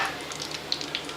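Plantains frying in oil in a pan give a soft, steady sizzle with faint crackles and small pops, close and fairly quiet, and no voices.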